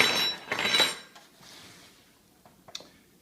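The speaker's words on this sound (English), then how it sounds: "Place the pork shoulder in a pan." A raw pork shoulder set down into a roasting pan, a brief clatter and rustle of metal and meat at the start, then a few light clinks fading into quiet.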